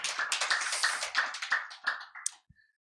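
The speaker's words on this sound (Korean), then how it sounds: "여기서 박수가 나올 줄 몰랐는데" Brief, light scattered clapping from a church congregation during an Easter Sunday sermon, a quick patter of claps that thins out and stops within a few seconds, fairly quiet and alone.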